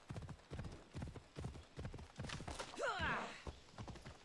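A horse in the video game Assassin's Creed Odyssey gallops with rapid rhythmic hoof clops and lets out a whinny midway, moderately quiet in the game mix.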